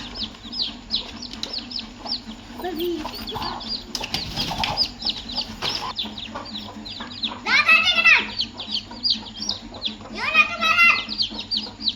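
Domestic country hens cluck in a home yard with newly hatched chicks, short repeated clucks and a couple of louder squawking bursts, with people and someone talking nearby.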